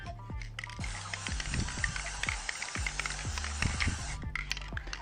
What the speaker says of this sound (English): we're going to spray paint over top of this while it's still wet